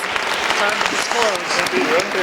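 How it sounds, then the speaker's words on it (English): An audience at a school idea showcase applauds the judges, with a steady wash of clapping mixed with voices talking and cheering over it. "Let's give them a big round of applause."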